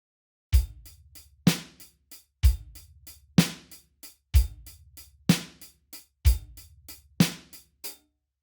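A drum kit plays a steady lilting 12/8 blues groove in triple subdivisions, a kick and snare accent repeating about once per second with light cymbal taps between, no voices.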